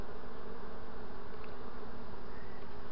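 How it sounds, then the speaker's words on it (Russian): Honey bees around a hive, during the recapture of a swarm's queen, give a steady, dense buzz that stays close and even throughout, with no talk over it. "Я пчел сейчас выгоню отсюда."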